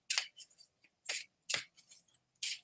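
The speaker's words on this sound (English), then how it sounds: "I shuffle these cards because they're like cardboard and they're hard" Stiff cardboard oracle cards are shuffled by hand in short crisp rustling bursts, about five quick slaps and riffles spaced irregularly, close up and clear with no talking.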